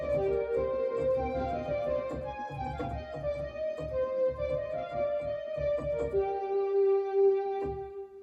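A lead synth voice from a Yamaha SY99 synthesizer plays a sustained melodic line over a rhythmic low backing, moderately quiet and steady, with no talking.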